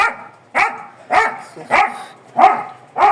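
A dog barks five times in a steady rhythm, about one bark every half second, close and fairly loud with no talking.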